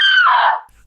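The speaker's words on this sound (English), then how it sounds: "she screamed in horror" A woman's sharp, piercing scream of horror, loud and sustained for most of a second before cutting off abruptly, with no talk over it.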